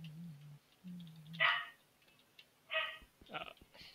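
A Minecraft wolf kept as a pet dog gives a few short, sharp barks, spaced apart and fairly faint, after a voice at the start.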